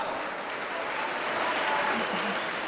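Steady, dense audience applause fills a school hall at a high school Veterans Day event, holding at an even loudness throughout without a break.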